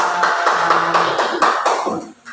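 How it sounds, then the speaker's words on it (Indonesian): Classroom applause for a student group after their presentation: a short burst of many hands clapping close by, fairly loud and uneven, fading out abruptly at the end. "tepuk tangan untuk kelompok bulan"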